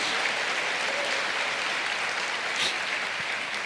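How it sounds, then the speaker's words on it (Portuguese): A church audience applauds during worship, a moderate, steady wash of many hands clapping at a distance, sustained for several seconds. "Aplauda o Senhor"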